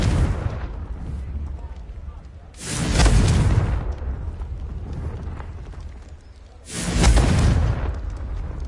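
The Confringo explosive spell from the game Hogwarts Legacy goes off twice, each a loud, deep booming blast with a rumbling tail, a few seconds apart over a low background din.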